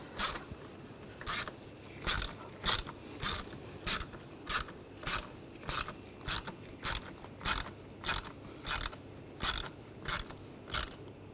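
A ratchet clicks in sharp, evenly spaced bursts as screws on the ignition coil cover of a 2007-2013 BMW X5 3.0L inline-six are snugged down, close and crisp with no talking.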